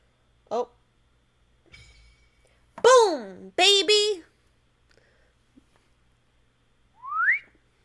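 A human voice imitating a slide whistle with a few rising and falling pitched glides, separated by silence, in a quiet room.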